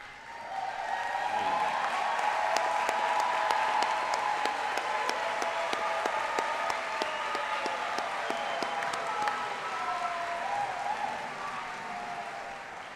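Sustained applause from a high school graduation audience honoring summa cum laude students, a thick roar of clapping with occasional sharp individual claps standing out, holding steady for a long stretch before easing slightly.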